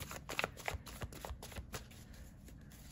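Tarot cards are shuffled by hand in a run of crisp riffling and slapping bursts, close up and fairly quiet. They taper into softer handling toward the end, with no talk over them.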